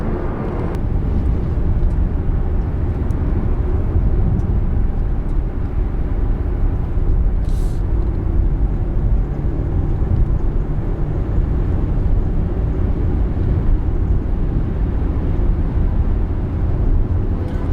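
Heavy trucks rush past on a three-lane motorway, heard from inside a moving Mazda CX-30 as a steady, loud roar of road and engine noise with no distinct pass-bys standing out.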